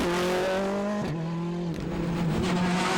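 Rally car engine revving hard on a stage in the Circuit of Munster Rally, its pitch dropping and rising as the car spins, with loud continuous engine drone, a brief tyre scrub and no voices.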